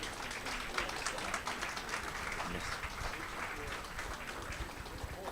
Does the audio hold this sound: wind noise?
no